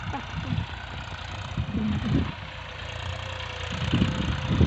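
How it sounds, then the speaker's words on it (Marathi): A tractor engine idles nearby on a farm with a steady low rumble, growing slightly louder toward the end, with no talking over it. "आता मी माझ्या मामाचं ट्रॅक्टर दाखवते, चला माझ्यासोबत"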